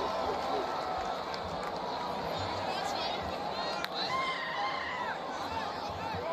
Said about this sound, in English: if you hear the buzz coming out of the crowd right now on the stadium